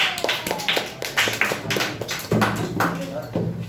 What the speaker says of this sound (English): So next we have well done clap for Gaurav.